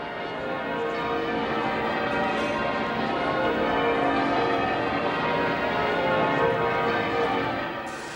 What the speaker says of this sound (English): we've recreated that image and the bells which rang out across the capital